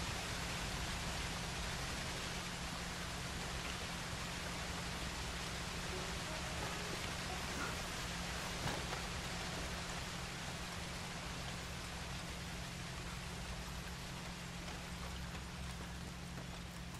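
Steady broadband rush of a waterfall in Red Dead Redemption 2, loud and unbroken from start to finish, with no voices over it.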